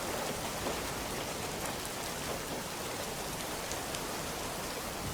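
Heavy rain in a film scene, a dense, steady hiss of drops falling on surfaces, loud and unbroken for a few seconds with no voices.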